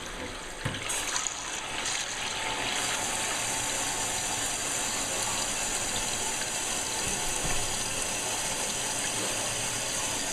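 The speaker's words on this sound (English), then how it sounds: "Turn the water back on." Toilet tank refilling after the water supply is turned back on, a steady close hiss and rush of water flowing in continuously at moderate level, with no voices.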